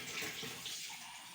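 Water pours and splashes into a tumbler during dishwashing, a soft continuous hiss of flowing water that fades slightly toward the end, with no voices.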